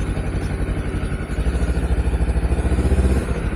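A Honda CBR 250R motorcycle engine runs on a night test ride, a loud close pulsing mechanical throb that stays steady throughout, with no talk over it.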